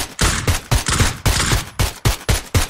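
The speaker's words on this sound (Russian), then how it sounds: "Он в спину стрелял" Rapid bursts of video game gunfire crack repeatedly in a quick, uneven rhythm, loud and close, with short gaps between volleys.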